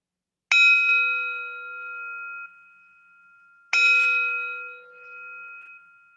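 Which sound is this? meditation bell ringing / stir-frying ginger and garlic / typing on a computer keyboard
meditation bell ringing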